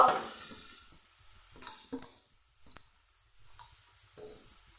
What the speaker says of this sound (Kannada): ಸ್ವಲ್ಪ ಈರುಳ್ಳಿ ಹಾಕ್ತಾಯಿದ್ದೀನಿ. ಈರುಳ್ಳಿ ಹಾಕ್ಬಿಟ್ಟೆ. ಈರುಳ್ಳಿ, ಕ್ಯಾರೆಟು